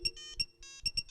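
A phone rings with a bright electronic ringtone, short repeated beeping bursts in a quick pattern, fairly faint and alone with no talk.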